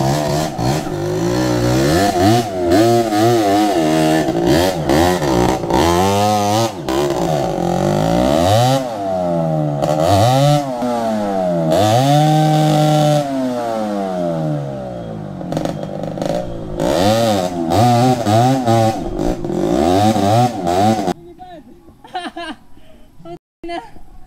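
Enduro trail motorcycle engines, KMX125 or DT125, rev up and down repeatedly in rising and falling pitch sweeps on a muddy trail, loud and close, with people talking over them before the engine noise cuts away.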